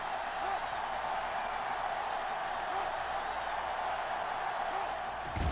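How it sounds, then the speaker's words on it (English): Stadium crowd cheering in the NCAA Football 06 video game, a steady roar of cheers holding level from start to finish at a third-down play, with no break in the noise. "Crowd going crazy."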